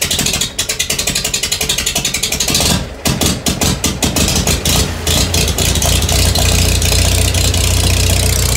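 A 1946 Farmall M tractor engine catches on the first hand crank on a cold, snowy day, a fast rattling chatter of mechanical clatter settling into a loud, steady, close idle with no talk over it.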